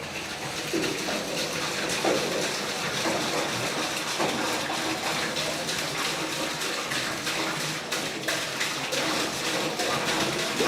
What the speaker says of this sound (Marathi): मंडळी आपण बघितलं की ह्या टाकीमध्ये आपण पाणी टाकलं